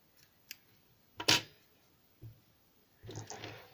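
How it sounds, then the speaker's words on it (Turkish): Excess yarn is snipped off the back of a small crocheted daisy for a hair clip; a few soft scissor clicks and snips sound close and quiet, with one sharper cut in the middle and a short rustle at the end. "Hemen arka kısmından fazla iplerimi kesiyorum."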